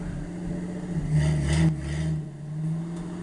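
A 1968 Ford with a points ignition idles low, then revs up loudly around the middle and settles back to a rough, steady running note, heard close by in damp, rainy conditions.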